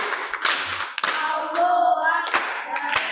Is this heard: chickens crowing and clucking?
no